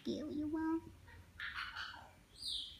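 A pet bird gives soft clucking, gobble-like calls up close, a short warbling run followed by a few higher chirps, quiet and without talk.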